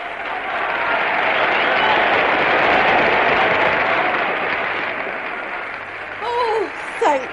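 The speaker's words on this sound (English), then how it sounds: "Now if they'd only applaud like that all time." Sustained audience applause fills a radio drama scene, a broad steady roar of many hands lasting several seconds, then fading slightly as a few whistles rise near the end.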